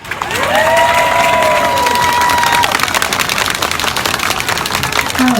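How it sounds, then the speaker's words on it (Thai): Crowd at a political rally on Sanam Luang in Bangkok applauding loudly and steadily, a dense continuous roar of clapping with cheering and shrill tones riding over it. "ปรบมือให้ลุงหลยครับ"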